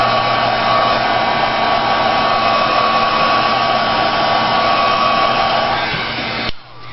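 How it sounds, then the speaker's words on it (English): A heat tool blows steadily at close range, drying a thin coat of glossy accents on a memory glass framed pendant, a continuous even whoosh that cuts off abruptly near the end. "I'm going to keep this heat tool moving because I don't want to bubble the glossy accents"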